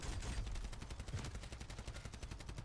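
Rapid automatic gunfire in a video game rattles on in a fast, steady stream, loud and continuous throughout.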